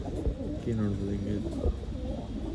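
Old line pigeons coo in low, soft, repeated phrases, held close, with a voice talking over them.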